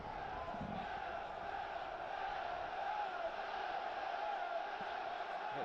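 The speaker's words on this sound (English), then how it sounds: "The crowd as well, getting behind the boys early on." A football crowd at a home game roars and chants steadily in the distance, a dense continuous murmur of voices with no single caller standing out.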